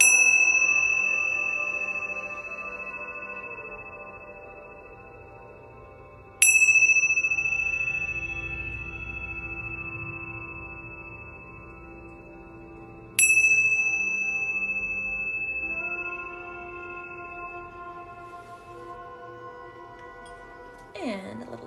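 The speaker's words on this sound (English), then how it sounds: "Bring in my Tibetan" Tibetan prayer bells are struck three times at even intervals, each strike a bright ringing chime that decays slowly into a long shimmering tail, with soft background rumble between strikes.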